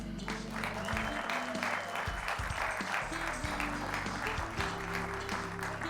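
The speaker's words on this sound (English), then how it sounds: "Another round of applause." An audience applauds at an education awards ceremony in San Diego, with a sustained wash of clapping running throughout, mixed with low murmurs and background rumble in a large room.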